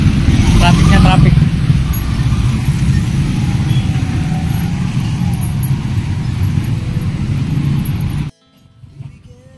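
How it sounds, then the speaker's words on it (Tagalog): Heavy road traffic in a jam produces a dense, continuous rumble of vehicles at close range, with voices mixed in. The noise cuts off abruptly near the end, leaving only faint sounds. "Traffic na traffic."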